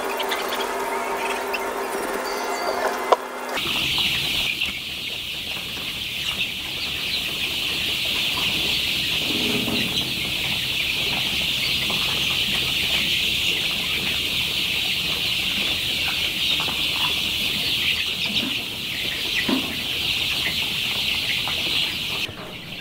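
A flock of 20-day-old chickens in a farm shed keeps up a constant dense chorus of cheeping and clucking, with a brief rustle at the start.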